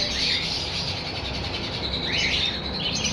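A breeder pair of green fisher birds chirps and tweets in quick, high bursts, fairly close and steady over a faint background hiss, with no talking.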